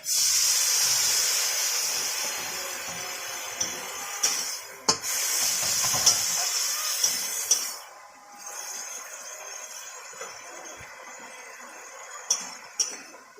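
Water is splashed into a hot pan while rohu fish curry cooks, setting off a loud sputtering hiss that rises in bursts broken by clinks of a utensil against metal and then settles into a quieter sizzle.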